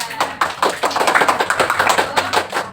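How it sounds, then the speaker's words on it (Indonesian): Pupils in a classroom clap for their classmate Kirana, a dense, steady patter of many hands at close range, lasting a few seconds without pause. "beri tepuk tangan untuk Kirana"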